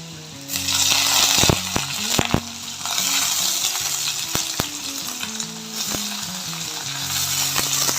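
Onion, cumin and curry leaves fry in two or three ladles of oil, giving a bright, continuous sizzle with sharp metallic clinks and taps of a ladle against the pan.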